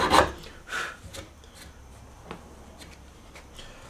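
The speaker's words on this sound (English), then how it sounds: "I've switched out to a finer, smaller file" A fine, small file rasps across the wooden neck of a Stratocaster guitar, a few scattered scraping strokes, the first ones strongest, then lighter intermittent rubs over a quiet background.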